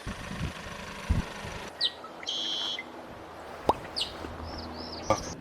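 Several short, bright water bird calls ring out at intervals over a soft outdoor lakeside background, some sharp and clipped, others brief rising chirps, moderately distant.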